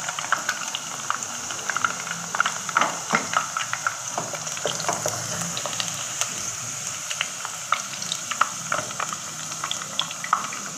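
Potatoes fry in a pan of hot oil for a mixed vegetable Chinese-style dish, giving a steady close sizzle with scattered crackling pops throughout and no voices.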